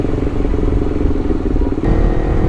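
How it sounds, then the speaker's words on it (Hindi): A Zongshen RX3 touring motorcycle rides along a city road, giving a steady, loud engine drone mixed with rushing wind and road rumble heard from the rider's position, with no talking. "इस टाइम पे मैं राइड कर रहा हूँ जोंगशन RX3 जो कि प्योरली एक टूरिंग बाइक है"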